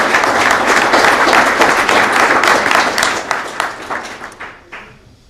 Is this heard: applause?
yes